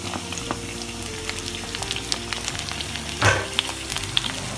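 Sliced onions, ginger and green chilli fry in hot oil for a Kerala beef fry, crackling with scattered pops over a low sizzle. A louder burst and a few spatula scrapes break in partway through.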